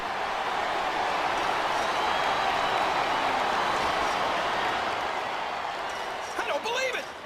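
Video game arena crowd during a WWE Raw steel cage match, a continuous loud roar of cheering spectators with a brief commentator's voice near the end.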